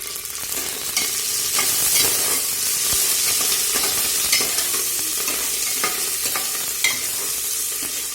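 Onion, peas, peanuts, cashews and coriander fry in hot oil for spiced rice. A steady, close sizzle runs throughout, with frequent spoon-stirring scrapes and clinks.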